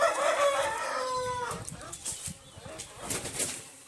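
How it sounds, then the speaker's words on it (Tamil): A rooster crows loudly and close up, followed by scattered clucking and rustling of birds moving around. "இது நம்ம வெள்ளைக்கோழி மோட குஞ்சு சேவை குஞ்சு"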